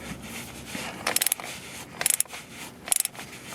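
A ratchet wrench tightening the transfer case fill plug on a 2004 Jeep Liberty 3.7L, heard as three quick bursts of rapid metallic clicking separated by short pauses, close and clear over a faint background hum.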